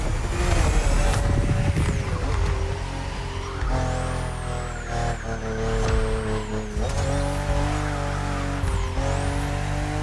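A BMW M4 CSL in The Crew Motorfest racing game, its engine roaring loud and steady throughout with rising and falling revs as it accelerates and shifts gears.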